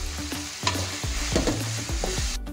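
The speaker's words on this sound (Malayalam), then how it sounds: "ഇതിലേക്ക് ഞാൻ കുറച്ച് ഉപ്പിട്ടിട്ട് നല്ലതുപോലെ വഴറ്റി എടുക്കുന്നുണ്ട്." Ingredients being sautéed with salt in a pan for a Kerala-style beef roast, a steady sizzle broken by repeated scraping stirs of a spoon against the pan, close and clear with no talking.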